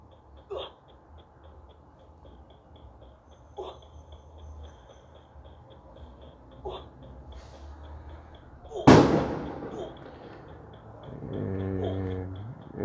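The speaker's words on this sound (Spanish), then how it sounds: "Esas bombas son porque estamos, es 31 de diciembre" New Year's Eve firecrackers go off outside: a few faint distant pops, then one sharp, loud bang midway, followed by a lingering tonal sound.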